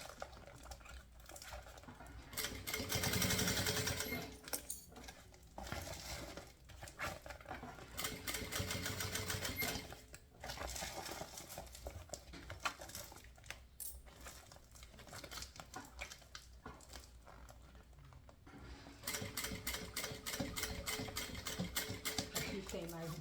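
A domestic sewing machine stitches slowly through thick layers of synthetic fabric for an insulated bottle bag, running in steady rattling bursts with brief pauses, close and fairly loud, with a voice at times underneath.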